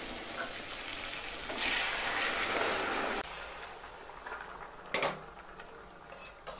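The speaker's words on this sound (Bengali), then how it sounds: "একটা পাত্রে গরম জল করে রেখেছিলাম, আমি এই জলটা এই মাংসের ভিতর দিয়ে দিব।" Hot water is poured into a pan of cooking duck meat and bursts into a loud, hissing sizzle that lasts a couple of seconds, then settles into a quieter simmer with a few light knocks.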